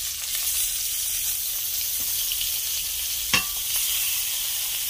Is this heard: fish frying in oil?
yes